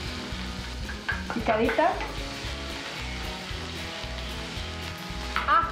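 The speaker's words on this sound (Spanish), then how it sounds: "empieza a dorar la cebolla" Chopped onion sizzles in olive oil in a hot frying pan with a steady close crackle, a few stirring scrapes and a brief voice over it.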